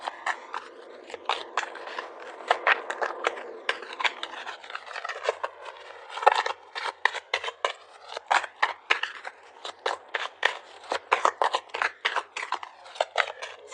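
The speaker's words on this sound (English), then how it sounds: "I really want to shuffle these super well" Tarot cards being shuffled by hand, a quiet run of crisp riffling snaps and papery flicks, irregular at first and then quicker and more rhythmic, close and alone with no talk.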